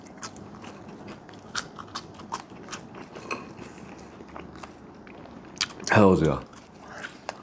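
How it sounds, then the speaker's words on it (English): Fries are crunched and chewed close to the mic with soft, irregular bites, including one louder crunchy mouthful, under a casual spoken remark. "Let me try some of these fries."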